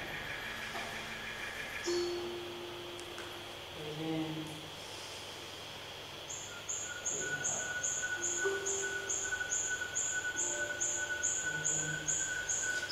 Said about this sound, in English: you can hear it's an actual nightingale